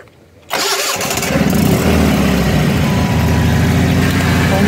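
After a moment of quiet, the engine of a homemade radio-controlled mini crane cranks and catches, then settles into a loud, steady rumbling idle close by.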